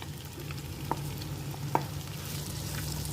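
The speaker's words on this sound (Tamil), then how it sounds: "கொஞ்சமாக எண்ணெய் விட்டு மேக்னேட் பண்ணி வச்சுருக்கிற நெத்தலியை ஃப்ரை பண்ணி எடுத்துடலாம்" Marinated dried anchovies fry in a little oil in a pan, a faint, even sizzle with a couple of light clicks from stirring.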